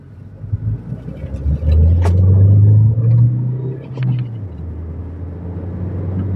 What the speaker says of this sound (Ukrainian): І от набирає швидкість, ну соточку він легенько йде